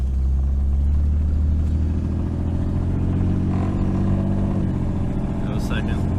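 A 1988 Jeep engine drones with a steady low rumble, its pitch shifting as it moves into second gear, while people talk over it.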